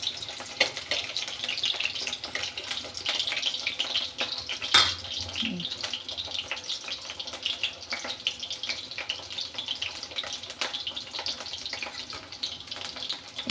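Broiler chicken meat sizzles in a pan, a steady close frying crackle with a soft clink of utensils partway through, no talk over it.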